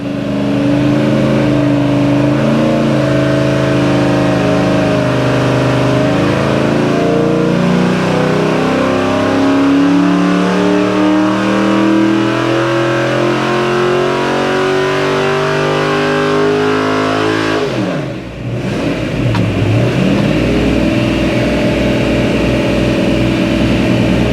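A small block Chevy V8 from a 1967 Camaro revs hard on a dyno, climbing in pitch through a long loud pull, dipping briefly, then roaring again, with no talk over it.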